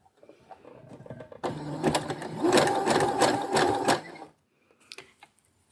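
A sewing machine stitches elastic onto a lingerie bodysuit, running loud and steady for about two and a half seconds with a fast mechanical rattle, then stopping, followed by a few faint handling clicks.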